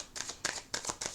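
Tarot cards are shuffled and riffled in quick close bursts, four crisp fluttering riffles in a little over a second, each a sharp papery rattle with short pauses between.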